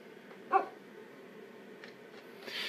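Animated dog assistant from old Microsoft software gives a single short bark near the start, clear over quiet room tone, followed by faint softer sounds.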